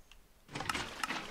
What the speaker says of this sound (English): We're opening the door and we're walking towards